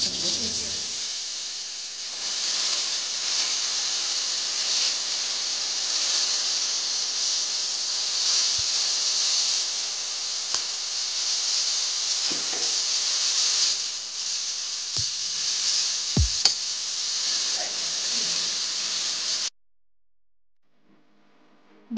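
Chopped tomatoes and spices fry in hot oil for an egg and potato curry, giving a steady close sizzle throughout with a few faint clinks and knocks, then sudden silence at the end.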